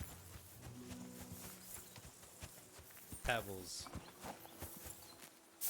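Horse hooves clip-clopping at a walk in Kingdom Come Deliverance 2, a soft steady rhythm of steps at moderate distance, with a person talking over it throughout.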